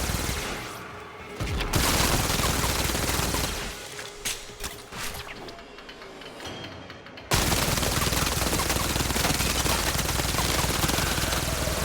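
Video game guns fire in dense, rapid automatic bursts, loud and close, with a brief thinning partway through before heavy continuous fire resumes and runs to the end.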